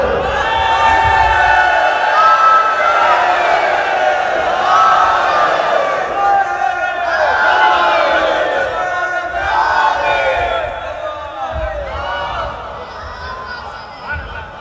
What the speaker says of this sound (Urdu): نعرے لگاؤ، علی کا نعرہ لگاؤ